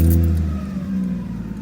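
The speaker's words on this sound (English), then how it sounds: "Right, let's turn the car on." Lexus IS200 turbo engine starting and revving, a loud close rumble that swells at first and then settles into a steady idle-like drone.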